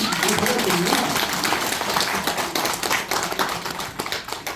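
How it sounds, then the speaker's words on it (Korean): Audience clapping at a laughter-therapy session for small business owners, brisk and fairly close, thinning toward the end with voices mixed in. "야, 이 정도만 되면 박수도 치고 그러던데."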